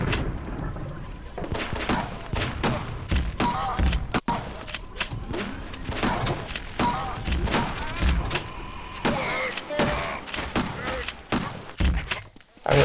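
Shotgun blasts from a custom model in a Quake mod, a series of sharp booming shots mixed with clanks and thuds, loud and close, with someone talking over parts of it.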